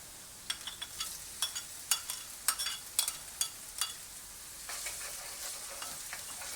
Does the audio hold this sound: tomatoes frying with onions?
yes